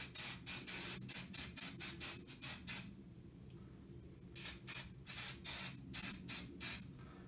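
Spray primer applied to model kit sprues in quick, rhythmic hissing bursts, a rapid run of short sprays, a pause, then another series, close and clear.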